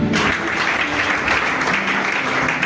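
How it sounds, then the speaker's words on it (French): A church congregation applauding, dense sustained clapping that fills the room at a constant loud level throughout, with no clear speech over it. "Acclame Jésus."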